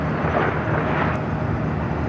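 A one-year-old Delta Airlines Airbus A321neo arrives at LAX from Las Vegas, heard as a steady, broad jet roar that stays loud throughout, with a faint wind-like hiss.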